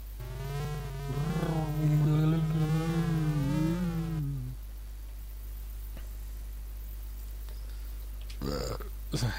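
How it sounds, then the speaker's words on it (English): A long, warbling burp plays as a game sound effect in the PC adventure game King's Quest III. It rises and wavers for about four seconds, then gives way to a faint hiss. "Burp."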